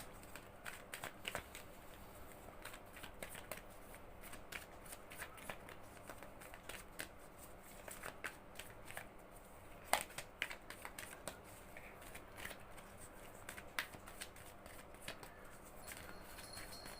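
Tarot cards being shuffled by hand, a soft, continuous riffling and flicking with small sharp clicks, faint and close, with no talking.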